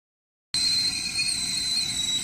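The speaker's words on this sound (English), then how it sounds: "when she whistles, she's a-blowing. That means the cup of tea's a-ready." A kettle whistles on a Coleman camping stove outdoors, a steady shrill tone that starts abruptly after a brief silence and holds loud and unbroken to the end.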